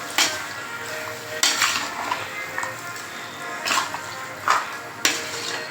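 Chicken pieces being stirred in a metal pan over a low flame for a roasted-spice chicken curry, with intermittent clanks of a spoon against the pan under a steady faint sizzle.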